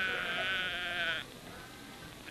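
A sheep bleats in a 1950s pharmaceutical commercial, one sustained wavering call that cuts off abruptly, followed by quieter background noise and the start of another call at the very end.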